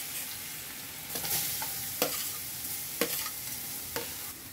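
Carrots being stir-fried in a pan for veg momos, a soft steady sizzle with a few sharp scraping clicks of the spatula against the pan, close up and with no talking.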